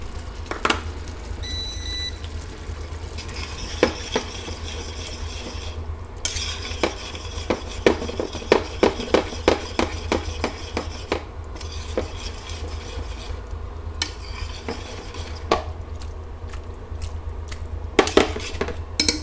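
A utensil scrapes and clinks against a pan while tofu is stirred for chicken mapo tofu, a faint sizzle running underneath and scattered metallic taps landing irregularly.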